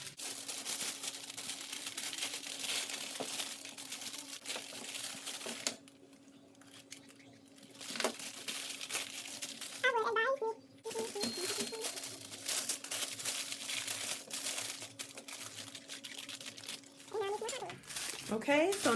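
Wax paper crinkles and rustles as it is crumpled and handled for a homemade diva ring light, a dense steady crackle running throughout with brief pauses, while a person talks over it.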